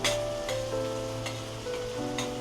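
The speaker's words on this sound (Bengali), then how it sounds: "আমি ওদিকে আলু ভাজছি" Potatoes fry in a hot pan with a steady, close sizzle and a few sharp crackles and clinks, while khichuri is being cooked alongside.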